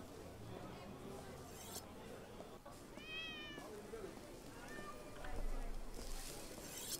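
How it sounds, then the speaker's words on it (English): A cat meows a few times, faint and brief, beneath ongoing talk and street noise outdoors. "Look at that cat."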